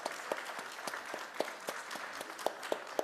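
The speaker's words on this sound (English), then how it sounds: "Please give a huge round of applause." Sparse, fairly faint applause at a management college panel event, with scattered individual claps ringing out over a soft bed of clapping, as if a small audience in a hall.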